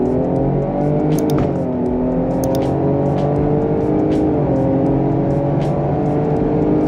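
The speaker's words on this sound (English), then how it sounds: "Let me get down to 20 and accelerate." A Lincoln Aviator fitted with an intercooler accelerating from 20 mph, heard from inside: a loud steady engine drone rising in pitch through a gear change, with no talking.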